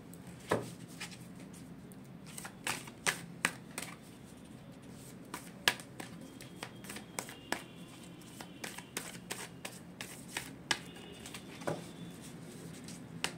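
Tarot cards are shuffled in a long run of sharp, irregular snaps and flicks over a faint steady background hum, close and fairly quiet, with no talk.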